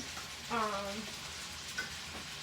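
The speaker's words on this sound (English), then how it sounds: "I like to use forks when I'm sauteing my vegetables" Vegetables sautéing in a pan while being stirred with forks, a soft low sizzle with a brief scraping stir near the start and a sharp utensil clack at the end, close and fairly quiet.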